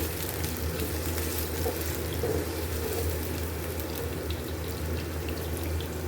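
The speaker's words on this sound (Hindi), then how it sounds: "यहाँ पर हमने प्याज को फ्राई कर लिया" Chopped onions fry in hot oil, giving a steady, dense sizzle and crackle that holds at an even level throughout, close up, with no voices.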